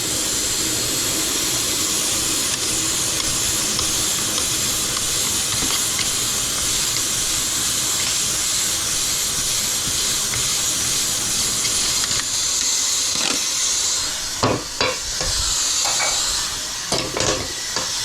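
Water in a pot comes to a strong rolling boil while stew is cooked, a loud continuous hissing and bubbling rush heard close, with a few clinks toward the end and no talking.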